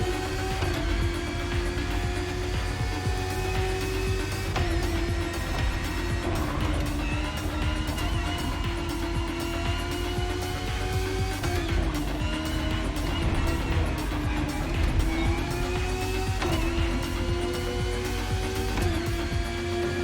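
Race car engine at full throttle in The Crew Motorfest, a steady loud drone with shifting harmonic tones that rise and dip through gear changes, continuous and close throughout.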